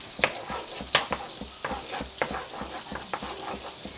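Butter and a little oil sizzling in a hot pan, a steady crackle broken by sharp spattering pops and occasional stirring scrapes, close and fairly quiet.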